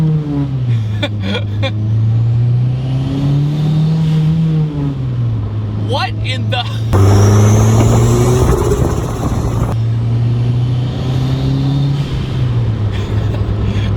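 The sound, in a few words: turbocharged Honda CR-V revving with loud blow-off valve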